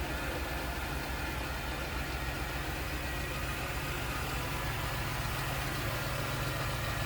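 A 1995 Chevrolet Camaro convertible with a 3.4 V6 idles steadily, a smooth, even low rumble that holds constant throughout with no revving or voices.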